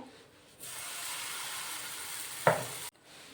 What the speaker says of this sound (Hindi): अब इसे हम निकाल देते हैं और वापस से हम इसमें तेल लगा लेते हैं और 1 चम्मच भरकर बैटर डाल देते हैं।